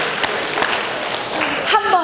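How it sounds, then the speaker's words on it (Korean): An audience at a book-author lecture in a Seoul bookstore claps along, producing a brief burst of applause with a voice speaking over it and a stronger flurry toward the end. "박수 3번 시작"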